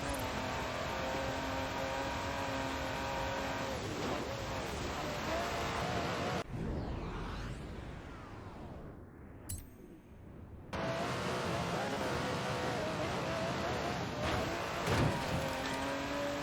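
An Aston Martin DB11 drives in the racing game Forza Horizon 4. Its engine makes a steady, loud drone that drops away briefly midway, then returns at full strength.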